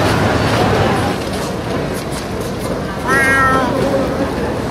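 A person imitates a cat's meow once near the three-second mark, a short harmonic mewing sound rising over steady background noise, with no other talk in the clip.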